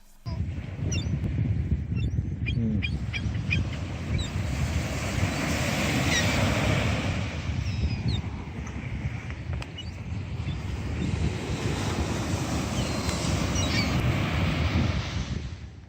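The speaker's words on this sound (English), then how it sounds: "we went to sleep listening to the waves crashing on the shore" Ocean surf rolls onto a Florida beach at night, a continuous roar that swells, eases midway, then builds again. No one speaks.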